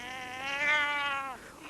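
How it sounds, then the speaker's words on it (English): A cat yowls in one drawn-out, rising and falling wail lasting over a second, fairly close and clear, with no voices over it. "A cat yowled."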